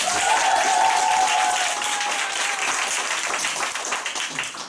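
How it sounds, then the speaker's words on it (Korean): Audience applause for award recipients at a Nu Skin Korea center meeting, a dense, steady wash of many hands clapping that stays loud throughout and eases slightly toward the end. "오늘 그 초대상 받으시면 다시 한번 큰 박수 한번 부탁드립니다"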